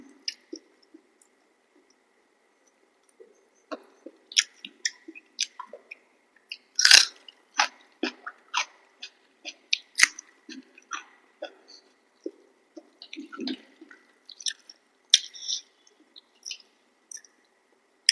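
Close, wet chewing and crunching of a home-cooked Bengali meal eaten with raw onion, with irregular bites and squishy mouth sounds, brief pauses between mouthfuls and a little faint background voice.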